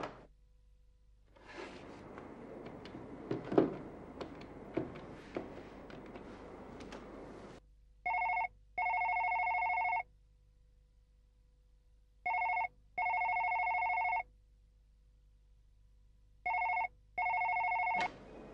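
A telephone rings during a call, in clean electronic bursts, several short rings grouped in pairs with pauses between. Before them comes a stretch of rustling, clattering room noise.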